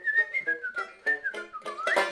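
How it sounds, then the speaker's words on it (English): Whistling carries a wandering melody, a clear pure tone with short breaths between phrases, close and alone, as a song from an opera house setting is whistled. "We whistle and we hum"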